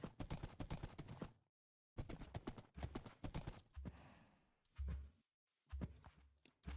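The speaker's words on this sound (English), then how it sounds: "We happen to have a horse over here." A horse in the Minecraft video game clip-clops in short bursts of hoof steps, separated by brief silent gaps, clear and close with no talk over it.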